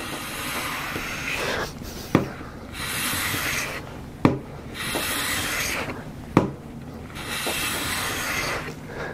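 A Stanley Bailey-pattern hand plane takes wispy, floating shavings off wood in long raspy strokes, each followed by a sharp knock as the plane is reset, repeating about four times close up.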